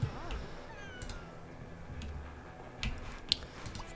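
Cats meow in The Sims 2, a few short faint meows and small clicks in a quiet room, with a voice talking softly.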